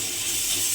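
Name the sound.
garlic paste frying in oil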